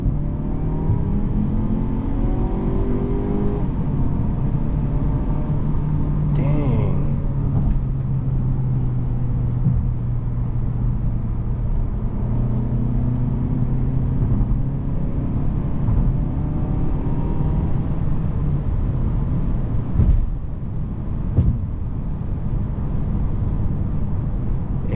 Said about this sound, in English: Let's get a quick 0 to 60 in the car.